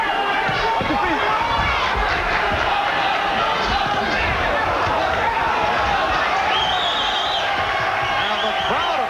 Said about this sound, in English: And the crowd appreciating the action.